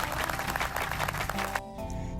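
Burst of clapping from a group, dense and steady for about a second and a half before cutting off abruptly, leaving a quieter tonal background.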